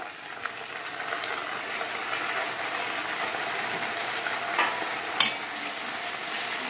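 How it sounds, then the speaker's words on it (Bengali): Chili and soy sauce mixture stir-frying in a home kitchen pan, a steady broadband sizzle with a few scraping stir clicks near the end, close and continuous, no talking. "এটা ভাজা হোক ততক্ষণ"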